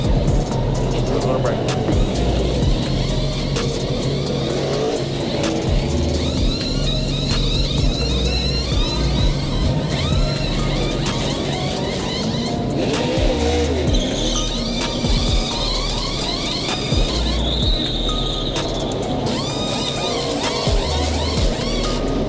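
Race cars roar around a NASCAR-style oval at Daytona, running inches apart, with loud continuous engine drone, passing whooshes and bursts of tire noise beneath an announcer talking over the field.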